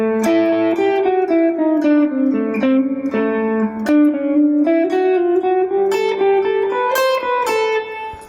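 An electric guitar plays a lick, a loud, close, fluid run of picked notes with lightly overdriven tone winding through chromatic steps, with no talk over it.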